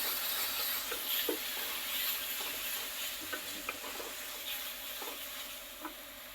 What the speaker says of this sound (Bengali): এখন দিয়ে দিলাম রসুন বাটা, আদা বাটা, আদা আর রসুনটাকে একটু কষিয়ে নিব।